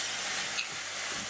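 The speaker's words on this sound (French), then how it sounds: "je vais ajouter mon beurre dans la poêle" Butter sizzles and hisses steadily in a hot frying pan with seared beef fillets, a close, dense crackle with no voices.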